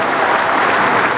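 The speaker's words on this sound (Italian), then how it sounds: "Un applauso a Gianluca." Audience at a basketball team presentation clapping in dense, loud, continuous applause throughout the short burst.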